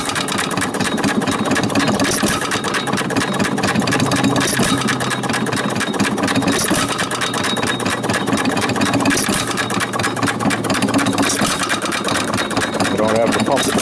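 A 1925 Baker Monitor 1 1/4 hp stationary engine runs, its rapid steady mechanical clatter and periodic firing beats going on continuously, loud and close, while someone talks over it.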